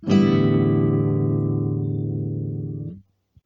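A single plucked string rings out loud and sustained for about three seconds, buzzing steadily before being cut off abruptly, followed by a faint tap.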